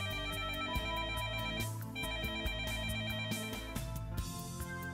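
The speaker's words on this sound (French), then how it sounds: "Nelly est interrompue dans sa lecture du mode d'emploi par la sonnerie du téléphone de Darren." A telephone rings with a continuous melodic electronic ringtone, loud and steady throughout, with no talking.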